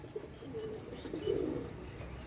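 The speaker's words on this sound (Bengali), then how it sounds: "অনেক সুন্দর কবুতর ভিউয়ার্স" Pakistani pigeons, including a blue-type bird, give soft low coos in short bursts close by, with faint chirps over steady background noise and no talk.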